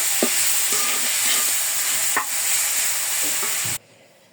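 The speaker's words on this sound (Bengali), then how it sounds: "নারিকেল পুলি বানাবো চিনি দিয়ে নারকেল দেবো ভেজে নিতেছি" Grated coconut frying with sugar in a pan, a dense continuous sizzle with repeated light scraping stirs, close and loud, stopping abruptly near the end.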